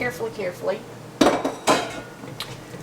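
Pecan brittle is scraped out onto a metal pan, with two loud metallic scrapes and clanks after some softer rustling, close up and with no voices.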